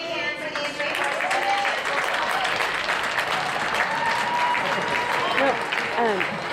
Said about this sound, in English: let's give a big hand for these three horses.